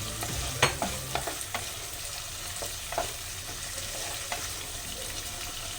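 Spice paste stirred and frying in a pan on a gas stove, thinned with a little chhana whey for a vegetarian cottage cheese curry; steady sizzle with several sharp spoon scrapes and knocks against the pan.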